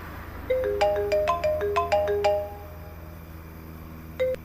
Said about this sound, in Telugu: ఫోన్ మోగుతుంది చూడరా.